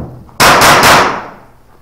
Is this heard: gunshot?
yes